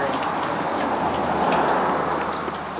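A dog-wash sprayer on its heavy rain shower setting hisses steadily, a dense, even patter of water with no pauses.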